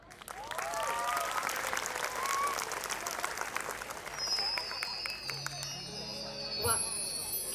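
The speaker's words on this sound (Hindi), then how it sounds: "जोरदार तालियां।" Sustained crowd applause fills a school annual day function, continuous and fairly close, while voices speak over it and a few tonal sounds rise near the end.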